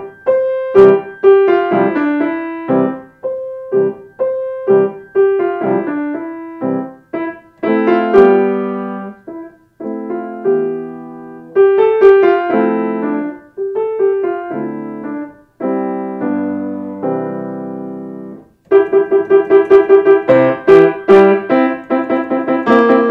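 Solo piano plays Bartók's Play from For Children, Volume 1, a lively piece of short, crisply articulated phrases and repeated notes separated by brief pauses, with a calmer middle passage before the bright opening figure returns.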